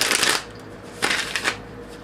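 Tarot cards being shuffled in two quick riffling bursts, close and crisp, separated by a short pause, with no talking.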